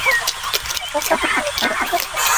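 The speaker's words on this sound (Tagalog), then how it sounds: "yung ating native na manok na may sisiyo" A native hen with her chicks clucks close by in a farmhouse setting, with soft repeated clucks and thin peeping chirps over a steady background hiss.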